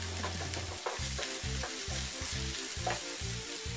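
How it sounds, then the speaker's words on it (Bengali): Onions fry in hot oil in a pan while being stirred, a close steady sizzle broken by a regular rhythm of scraping strokes, about six or seven in a row, with no talk. "এবার চুলা ধরিয়ে প্যানে তেল ঢেলে দিব ও এক বাটি পেঁয়াজগুলো সম্পূর্ণ প্যানে ঢেলে দিব ও নাড়াচাড়া করে নিব"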